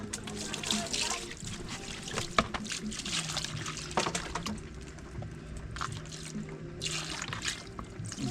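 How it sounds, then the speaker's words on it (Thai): Water runs and trickles steadily with occasional clinks of dishes, a continuous splashing wash close by, with faint voices in the background. "น้องกำลังล้างจาน"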